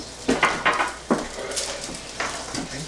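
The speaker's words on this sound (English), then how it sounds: "Could you hand me the bigger line sheet pan?" A large lined sheet pan being handled in a kitchen, several sharp metallic clanks and scrapes close by, then a softer rustle.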